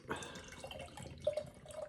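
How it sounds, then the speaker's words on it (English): Tree House Tree of Life barleywine, a dark, thick beer, being poured from a bottle into a glass, with a soft trickling, gurgling stream and a few brighter splashing notes near the end, close and quiet. "See if I can pour this without spilling it."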